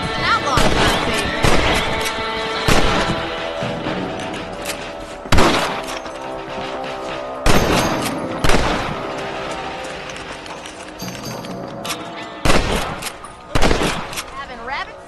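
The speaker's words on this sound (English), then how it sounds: "Shooting rabbits and outlaws, I see." Rifle shots fired at rabbits in Red Dead Redemption, a series of loud, sharp cracks spaced irregularly over about fifteen seconds, each with a short ringing tail, no talking.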